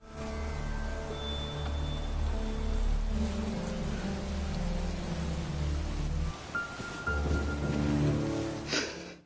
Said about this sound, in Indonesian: Debratz membawa Michelle keluar dari jendela untuk menyentuh air hujan